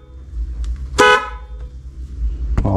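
A single loud, blaring honk from a newly installed aftermarket dual car horn sounds sharply against a low engine rumble, with a faint clunk just before and a brief noise near the end.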